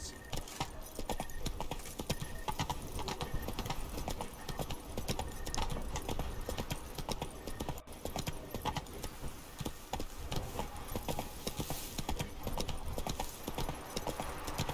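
Roach, a horse in The Witcher 3: Blood and Wine, trots with a continuous, even clip-clop of hoofbeats that is close and fairly quiet, with a faint jingle of tack.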